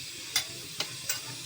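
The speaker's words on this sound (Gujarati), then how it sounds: "રાઈને ચટકવા દઈશું" Mustard seeds splutter in about five spoonfuls of hot oil in a kadai, giving three sharp crackling pops spaced apart over a quiet background hiss, close and fairly faint.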